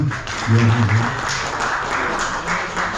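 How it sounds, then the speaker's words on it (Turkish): Audience applause for a volunteer at a Maçka Elektrik gathering, a short burst of clapping with a voice talking over it, moderately loud and fairly close. "bir alkış yapabiliriz kendisine"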